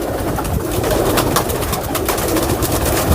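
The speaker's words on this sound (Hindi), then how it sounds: "अभी दूसरा कबूतर एक पकड़ के दिखाता हूँ आपको" Pigeons, including a Teddy-type female performer pigeon, coo in a steady stream alongside broadband rustling and flutter, close by and with no talking.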